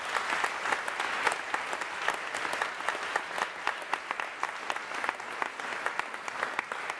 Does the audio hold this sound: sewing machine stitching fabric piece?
no